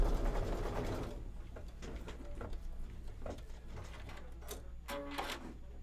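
A sewing machine stitches in a quiet, continuous mechanical whir with light rhythmic clicking, steady from start to finish with no talking.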